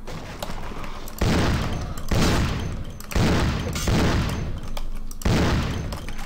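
Gunfire bursts in Vampire The Masquerade: Bloodlines during a fight where enemies close in to stab, loud repeated blasts arriving in roughly four or five heavy surges over the span, with faint talk at the edges.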